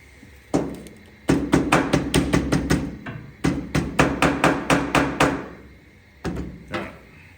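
Rapid bursts of metallic hammer blows on a metal car fender, steady rhythmic strikes in three groups separated by brief pauses, loud and close.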